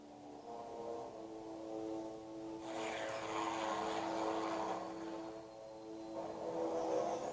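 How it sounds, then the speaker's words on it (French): A Grumman Avenger torpedo bomber on a training flight over the Bermuda Triangle drones steadily with a continuous propeller-engine hum that swells in the middle and stays loud throughout, with no voices. "l'Avenger passait pour le meilleur bombardier lance-torpilles du monde"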